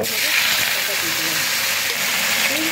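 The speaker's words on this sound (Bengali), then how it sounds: "এই যে দেখুন চিটপিট আওয়াজ হচ্ছে" Cut potatoes frying in hot oil in a pan, a steady dense sizzle and hiss with faint crackles running close and continuous throughout.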